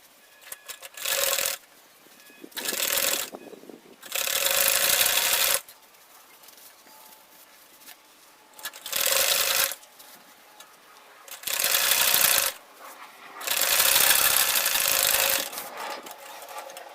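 Sewing machine top stitching an insulated lunch bag, running in several bursts of steady whirring stitches separated by quiet pauses, close and fairly loud.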